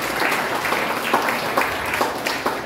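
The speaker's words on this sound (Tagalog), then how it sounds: "Lahat ng nagmamahal kay Lord, magsabi ng amen at pumalakpak ng malakas" A church congregation applauding together, a steady mass of claps with periodic stronger swells, moderately loud and continuous throughout.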